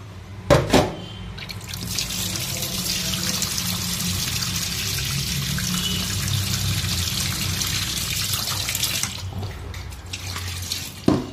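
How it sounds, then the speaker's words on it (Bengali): Hilsa fish are rinsed under a running kitchen tap, a steady close gush of water into the sink with a few clunks and splashes at the start and end, no talking. "এখানে ইলিশ মাছগুলো এখন ধুয়ে নেব"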